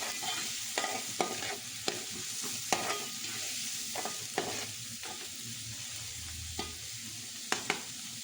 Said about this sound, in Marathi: कांदा व्यवस्थित परतून घेतलेला आहे।